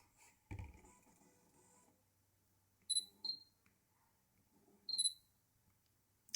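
Samsung NX300 mirrorless camera firing its shutter, a few sharp mechanical clicks in quick pairs spaced apart, close and clear against a quiet room.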